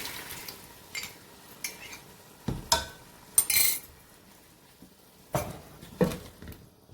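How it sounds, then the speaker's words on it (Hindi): Dissolved chicken stock cubes go into a pot of Turkish vegetable soup and get stirred, a spoon clinking and scraping against the pot in scattered bursts with quiet gaps between. "अब इसमें हमने जो चिकन क्यूब्स हमने घोल के रखे थे अब वो डाल देंगे।"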